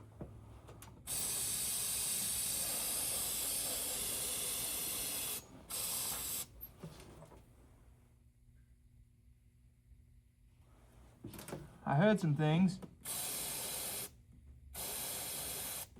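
Bursts of aerosol parts cleaner spraying onto oily car parts during work on a Toyota Highlander, several long hissing blasts separated by pauses, with a brief spoken remark in between.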